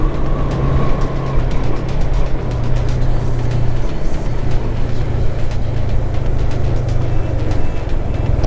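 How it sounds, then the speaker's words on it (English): A car drives through the Muttodi forest range, its engine and road noise forming a loud, continuous rumble with a steady low hum and scattered light rattles and clicks over it. "We are actually driving in between Muttodi forest range."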